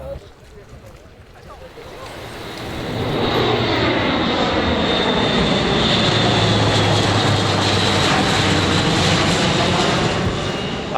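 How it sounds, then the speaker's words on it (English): A huge military jet flies low through a valley in Scotland, its roar swelling from a distant rumble into a loud, sustained broadband wash that holds steady for several seconds. "a huge military jet just flew through the valley"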